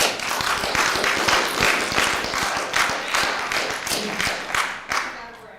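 Applause at a school board meeting: a steady burst of clapping from a room of people, dense and fairly loud throughout, with some crowd murmur underneath.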